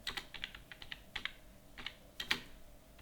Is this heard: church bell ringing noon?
no